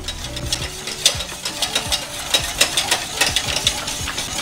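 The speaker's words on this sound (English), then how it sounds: "constantly stir this filling mixture until this is thick" A thick mango cheesecake filling is stirred constantly in a pot as it cooks, making a quick series of scraping, clicking strokes in an irregular rhythm, close up and with no voices.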